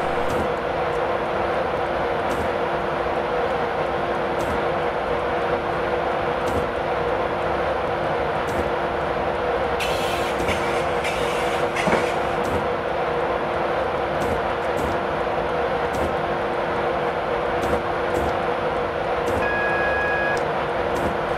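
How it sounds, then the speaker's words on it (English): A Class 91 InterCity 225 electric train in a train simulator game runs at speed, a steady loud rumbling drone with regular rhythmic clicks of wheels over rail joints and a brief higher warning tone partway through. "this is the Class 91 Intercity 225"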